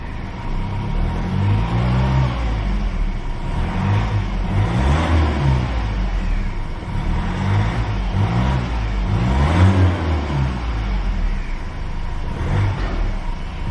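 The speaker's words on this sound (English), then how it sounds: "We'll give her a slight rev." Diesel engine of a 2019 Ford Ranger Raptor with a 10-speed automatic revs repeatedly, a loud rhythmic series of rising and falling throttle blips over a steady idle, heard close up with no talking.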